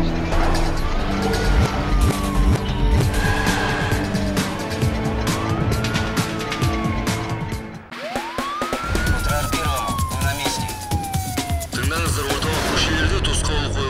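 An ambulance siren wails in long rising and falling sweeps, loud and close, repeating over steady vehicle engine noise while people talk nearby.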